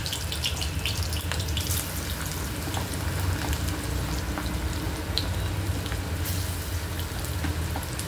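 Bitter gourd (karela) pieces shallow-frying in oil in a pan over a high flame: a steady close hiss and crackle with small pops scattered throughout, and no talking.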